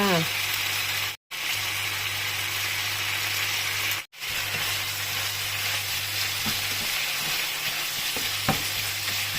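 Minced pork stir-fried with holy basil and sugar in a hot pan, a loud, steady close-up sizzle with light spatula scrapes, briefly cutting out twice.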